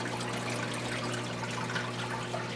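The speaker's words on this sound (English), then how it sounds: "shelves are full of small tanks with circulating water." Steady circulating water in rows of small axolotl tanks on shelves in a closet-sized room at a veterinary school, a constant soft trickle and hum with no break.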